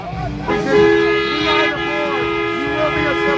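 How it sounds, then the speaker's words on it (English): An air horn blares at a Portland street protest, a loud sustained honking tone that holds steadily across the clip while voices talk and shout over it. "Stop that air horn."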